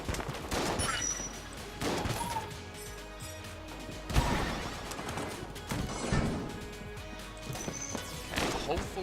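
A regular shotgun fired repeatedly in the Enter the Gungeon video game, dense overlapping blasts and crashes in rapid bursts over a busy, constant game soundscape.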